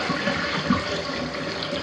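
Shower water running steadily in a newly built North Dallas bathroom, a continuous broadband hiss with a small splash or knock partway through, no talking.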